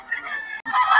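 A rooster or gamecock crows close by in two quick bursts with a brief break between them, loud and alone with no voices over it.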